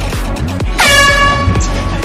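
An air horn set off as a prank blares loud and steady across most of the moment, layered over thumping music.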